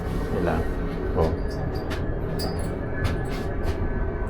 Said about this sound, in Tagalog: Double decker ng tren nila.